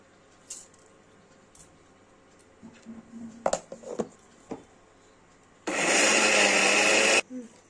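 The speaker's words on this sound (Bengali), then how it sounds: "মিক্সারে গুঁড়ো করে নেব" An electric mixer grinder grinds soaked, drained rice into flour for bottle gourd pitha, a loud, steady motor whir lasting about a second and a half after some light clattering and handling sounds.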